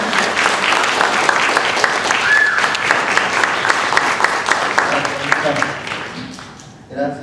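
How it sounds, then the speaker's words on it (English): A crowd applauds loudly and continuously for several seconds, the clapping thinning out and fading toward the end. "let's give him applause."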